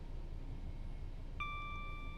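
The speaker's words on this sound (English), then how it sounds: "it beeps immediately because it goes, you've covered 1 foot" A train cab in Train Sim World 4 (Class 66 locomotive) gives a single sudden electronic beep that holds as a steady tone, faint and alone over a quiet low rumble of the cab.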